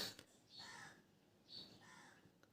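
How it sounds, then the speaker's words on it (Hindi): A crow caws behind a house, two drawn-out harsh calls about a second apart, moderately distant and clear over a quiet background. "यहाँ भी आप सुन रहे हैं कि मेरे घर के पीछे भी कौआ काँव काँव कर"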